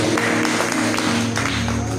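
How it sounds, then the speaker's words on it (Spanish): A church congregation applauds in a steady, dense wash of clapping that carries through the whole moment without a break. "Dale voto de aplauso al Señor."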